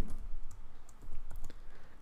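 Typing on a computer keyboard while writing VBA code, with a run of soft, irregular key clicks at close range and no talk.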